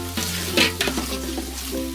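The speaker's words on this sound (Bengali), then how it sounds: "তারপর চাল আর ডালটা ভালো করে মিক্স করে নিতে হবে" Rice and lentils for vegetarian bhuna khichuri are stirred in a hot pan, with close scraping strokes of the spoon over a continuous oily sizzle.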